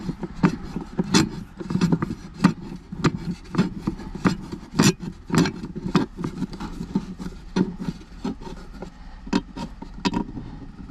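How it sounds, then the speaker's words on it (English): A screw is driven into a locking safe-vault console in a Ford Maverick. A manual screwdriver turns with repeated close, gritty rasps and scrapes, an irregular rhythm of twists heard alone. "this is screwing right in nice and easy. You gotta put a little pressure on the screwdriver"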